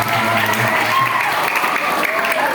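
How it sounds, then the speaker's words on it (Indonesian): Audience applause for a religious speaker at an Islamic youth study session, a steady wash of clapping heard throughout with a voice talking over it. "Boleh tepuk tangan buat Ustaz Novel dong"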